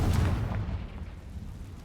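A Confringo fire spell blast in the video game Hogwarts Legacy, a loud low booming burst at the start that rumbles and fades over about two seconds.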